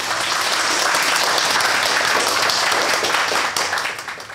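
An audience claps after a poem reading, a dense, steady burst of applause that holds loud for about three seconds before thinning and fading out.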